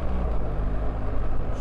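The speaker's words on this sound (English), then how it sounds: "Snick it in. Super quick shifter. Auto blip." BMW R1300GSA motorcycle engine running steadily and loud through a quick-shifter gear change with auto blip, a continuous low rumble with a brief flicker of revs, no talking.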